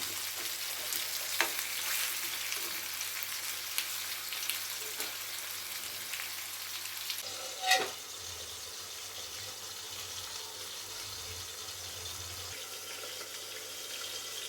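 Tomatoes and potatoes cooking in a covered pan, giving a faint steady bubbling sizzle with a few small clicks and one brief knock.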